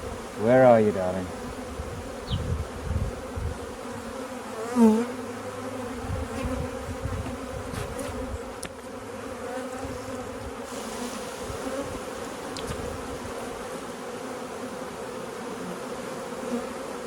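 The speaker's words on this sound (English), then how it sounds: "Look at that amount of bees." Many bees buzzing around a hive, a steady low drone with a few louder bursts as insects pass nearby, heard alone without talking.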